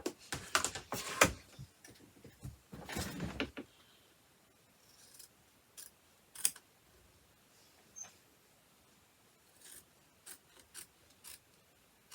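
Scissors trimming the top section of an embroidered fabric pouch, a dense burst of close snipping and rustling at first, then sparse quiet single snips and fabric rubs spaced out over the rest, no talk.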